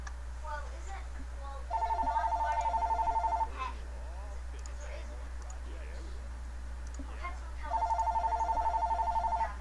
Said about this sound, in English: Is that your phone, Chris?